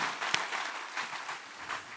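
A church congregation applauding during a Sunday worship service, a brief, soft patter of clapping heard at a distance without voices.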